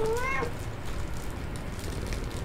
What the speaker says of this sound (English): pet the cat that's on the bed